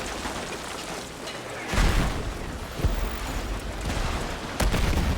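Explosions and gunfire from the single-player campaign of the video game Battlefield 6, with a dense battle rumble and several heavy booms bursting out near the start, middle and end.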